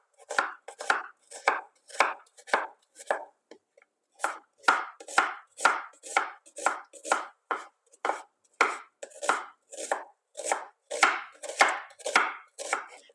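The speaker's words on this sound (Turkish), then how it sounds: "Bir adet soğanımızı jülyen doğruyoruz." A knife strikes a cutting board in quick, even chops as a single onion is cut into julienne strips. The close, crisp strokes come in steady runs separated by brief pauses.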